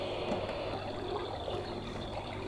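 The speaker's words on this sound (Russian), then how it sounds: "Вот прям ручей." A baby swing's built-in nature sound plays a stream trickling and gurgling continuously, a steady running-water sound with no voices.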